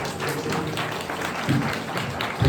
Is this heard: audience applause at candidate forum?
yes